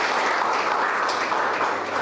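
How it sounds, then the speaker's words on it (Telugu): A crowd claps together for the private doctors at a food distribution event, a steady burst of applause close and dense for about two seconds. "వాళ్ళకి మరొకసారి మనం గట్టిగా చప్పట్లతో అభినందనలు"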